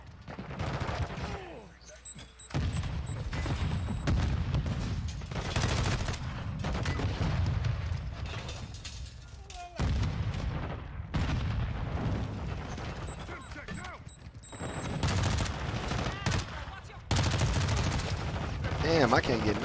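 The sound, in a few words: gunfire in a shooter video game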